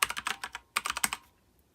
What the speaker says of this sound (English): this is where you will type in the name of your Wi-Fi network